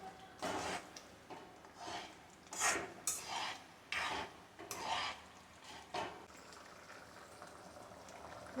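Wheat rava being stirred into boiling water in a pot, giving several rough, rasping scrapes in irregular bursts over a low bubbling background, close by and unaccompanied by speech.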